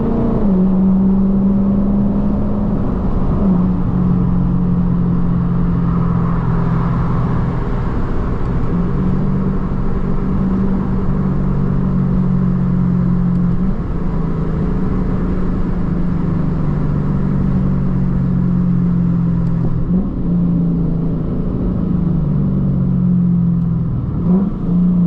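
A V8 car engine pulls hard through the gears, with a long third-gear run and downshifts, its steady loud drone rising and dropping in pitch over about 25 seconds, close and continuous with no talking.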